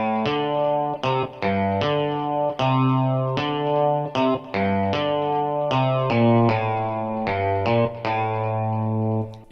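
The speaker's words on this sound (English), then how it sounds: "This is the arpeggio guitar from the Korg Triton, put into mono through a bit of a delay" Korg Triton arpeggio guitar patch in mono through a delay: steady, bright plucked-synth notes repeating in a rhythmic arpeggiated pattern, loud and continuous, with chord changes every couple of seconds and echoing tails.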